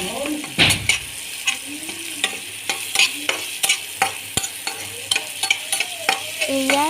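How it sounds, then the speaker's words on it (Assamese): Chopped onions and turmeric fry in hot oil for mushroom curry, with steady sizzling broken by repeated scraping stirs of a spoon against the pan, close and loud, with no voices. "হালধিও দিলোঁ তাৰপিছত অলপমান ভাজি আছোঁ"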